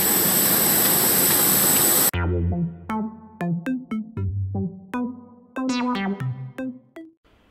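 Loud, steady jet engine roar from an aeroplane being boarded fills the first two seconds, then cuts off abruptly and gives way to a series of short tonal, melodic notes.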